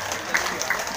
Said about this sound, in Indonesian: Tepuk tangan buat warga Kampung Mandar.